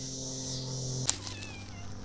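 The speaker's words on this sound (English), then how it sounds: "Meow." A cat meows once, short and close, over a steady low hum; a faint high chirp follows as the background continues.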